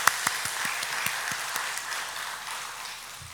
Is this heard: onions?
no